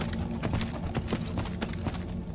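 Galloping horse hooves in Skyrim, a rapid uneven clip-clop rhythm running steadily throughout, fairly close and continuous, with no talking over it.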